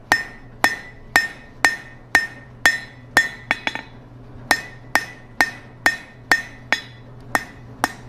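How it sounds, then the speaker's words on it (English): Sharp, ringing hammer blows flattening a section of hot steel for a campfire fire poker at a steady beat, a quick double strike midway, with a low hum underneath. "hammer it kind of flat"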